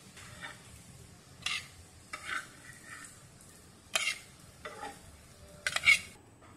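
Colocasia leaf rolls (aluwadi) being stir-fried in a pan: soft background sizzle punctuated by several short, separate bursts of a utensil scraping and knocking against the pan, close and intermittent.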